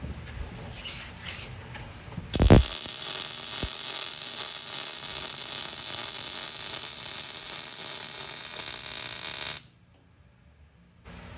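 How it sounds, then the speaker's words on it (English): Welding tabs and a bump stop strike plate onto a truck axle during a rear outboard shock relocation kit install gives a loud, steady crackling hiss for about seven seconds before cutting off abruptly. "He's gonna weld the tabs that hold the limit strap, and he's also gonna weld the bump stop strike plate to the axle."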